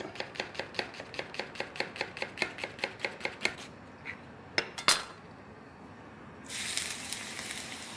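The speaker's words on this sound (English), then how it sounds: "little garlic, just cut coarsely." Onion and garlic being coarsely chopped on a board with a knife, a quick, even run of crisp close taps that stops, then a few scattered knocks and a burst of hiss.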